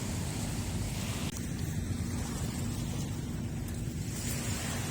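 Ocean waves wash steadily onto a seashore, a continuous broadband surf roar with wind buffeting the microphone, no voices, one slight dip near the start before the rush resumes.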